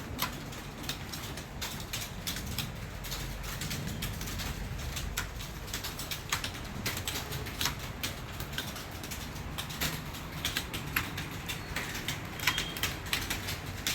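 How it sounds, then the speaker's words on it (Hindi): Rapid, steady typing on a keyboard during a typing test, a dense continuous stream of close key clicks with faint room noise and birds in the background. "टाइपिंग करा करो।"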